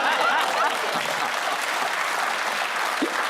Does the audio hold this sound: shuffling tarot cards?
no